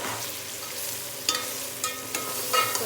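Spices frying with mutton in hot oil, a steady soft sizzle punctuated by a few sharp scraping stirs, close by.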